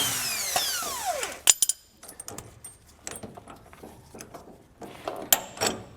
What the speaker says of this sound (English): So I'm going to be using my impact on the nut side and pulling all that off